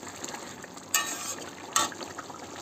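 Cooked papaya and potato curry tipped out of the pan, soft wet sloshing with two brief louder pours standing out against a quiet background.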